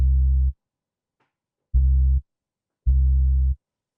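Three deep synthesized bass notes on an MPC One, laid over a sampled gospel beat, following the chords: a half-second tone, a pause, then two longer sustained notes, each with a sharp attack, clean and loud with nothing else audible.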